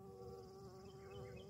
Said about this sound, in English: There's another little bee.